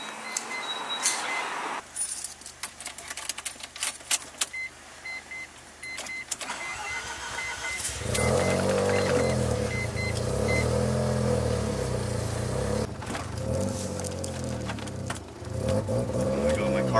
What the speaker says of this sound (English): There we go, my car's dying.